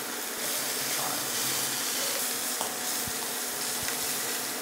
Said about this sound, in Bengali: একটু ভেজে নিচ্ছি পনির আর ক্যাপসিকামটা।